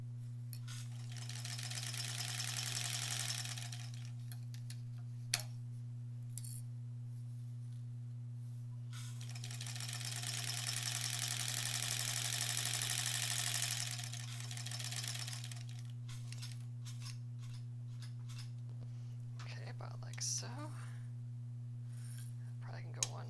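A sewing machine stitches a Halloween embroidered tote bag in two sustained runs, with quieter pauses and short bursts between them, heard close and fairly loud over a steady low hum, with light talk in the gaps.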